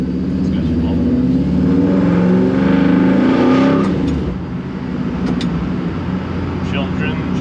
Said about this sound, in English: I can't believe how loud these mufflers are.